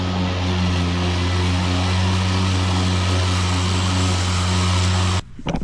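An EGO battery-powered lawn mower cuts through thick grass with a loud, steady electric whine and a strong low hum, running close and unbroken for about five seconds before cutting out abruptly.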